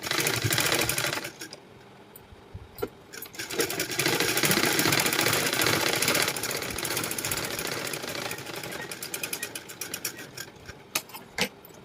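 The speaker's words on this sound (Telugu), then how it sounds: "ఫోల్డింగ్ పెట్టుకొని నీట్గా ఇలా స్టిచ్చింగ్ చేసుకోవాలి" A sewing machine stitches a blouse lining in close, loud bursts of rapid needle chatter, stopping and starting with short pauses between runs.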